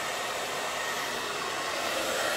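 A handheld blow dryer runs continuously up close, a loud, steady airy whoosh with a constant motor hum and no speech.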